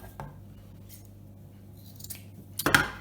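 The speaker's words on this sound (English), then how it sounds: "Scissors." A few sharp snips of scissors cutting fabric strips for a homemade tug toy, one faint early and a louder cluster near the end, against a quiet background.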